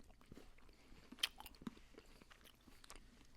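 Someone chews chocolate-shelled cookies and cream candy, with quiet, close crunches and small bites scattered irregularly over a faint background.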